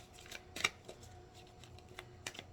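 Tarot cards shuffled and drawn, with a few soft riffling and snapping bursts spread unevenly over a quiet room, one sharper flick standing out near the start.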